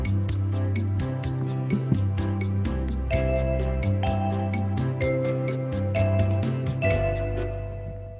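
An electronic keyboard plays a steady Latin-style rhythm with bass and chords, bright vibraphone-like notes ringing on top, no voices.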